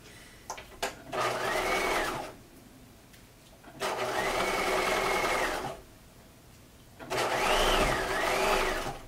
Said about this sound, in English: So this edge stitching will close that opening effectively.